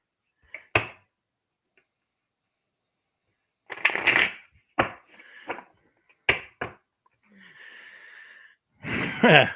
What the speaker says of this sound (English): Just one more shuffle, they say.